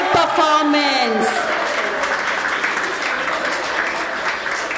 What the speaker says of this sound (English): please clap your hands and welcome our little handsome boys